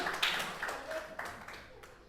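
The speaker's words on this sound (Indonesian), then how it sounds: "Tepuk tangan." Several quick hand claps, faint and a little distant, sound in a short irregular burst in a quiet room.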